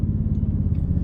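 A 2024 Toyota Tundra twin-turbo hybrid V6 hums from inside the cabin, a low steady engine rumble, smooth and muted, with no voices.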